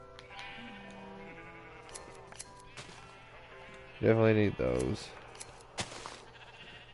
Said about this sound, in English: I don't need this sheep anymore. So let's shear them away.